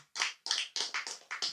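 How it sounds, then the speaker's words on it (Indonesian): Audience applause for a guest at an Islamic lecture, heard as about six short bursts of hand clapping in quick succession, moderately quiet, with no talking over it. "Tepuk tangan untuk Pak Mayor ya"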